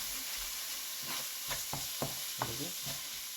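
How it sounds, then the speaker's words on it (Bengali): Onion and spices sautéing in a pan for chicken kosa, a steady close sizzle broken by several sharp scraping stirs of a spatula, with no talking. "পেঁয়াজটা যতক্ষণ গলে আছে ততক্ষণ আমরা কষাতে থাকবো।"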